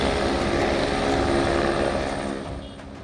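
Army rescue helicopter flying over disaster-hit Nepal, a loud continuous rotor and engine roar that fades slightly toward the end, with no talk over it.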